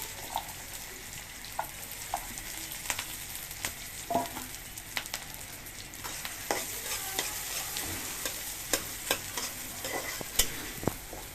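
Chopped onions and green chilies fry in a pan under a continuous sizzle, broken by frequent sharp spatula taps and scrapes at irregular intervals.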